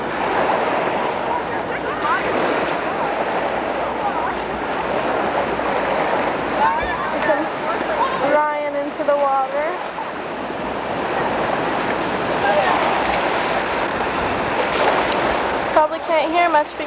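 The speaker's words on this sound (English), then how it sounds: "can't hear much because of the waves. They're loud, crashing." Loud ocean waves crash and wash continuously on a shore, a broad roaring surf with wind that stays up close, while people talk over it.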